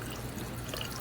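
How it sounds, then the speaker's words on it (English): Running water rinses hair at low pressure during a perm in a salon, a steady soft splashing stream with no talking over it. "So she is rinsing it, but you'll notice we're not rinsing it at really high volume."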